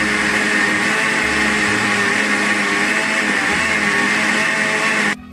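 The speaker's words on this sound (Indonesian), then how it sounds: "korang satukan kesemua bahan tersebut ke dalam blender" A blender whirs continuously at high speed, mixing batter for a Milo steamed cake, loud and steady throughout before cutting off sharply at the end.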